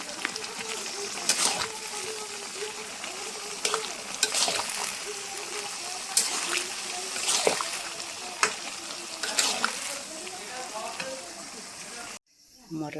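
Green peas frying in oil while being stirred, a busy crackling sizzle punctuated by regular scraping strokes of the spoon, with someone talking over it before a sudden cut.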